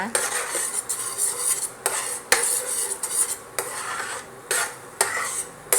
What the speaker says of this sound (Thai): ผัดไข่ให้เริ่มสุกนิดนึงนะคะ